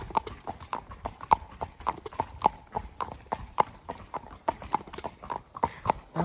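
A horse's hooves clip-clop at a steady walking rhythm on a hard road during a ride through a quiet residential close, crisp and close with no talking.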